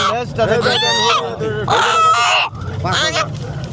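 Loud, close rooster calls in three harsh, drawn-out bursts, each rising and falling, with a low murmur of background market noise between them.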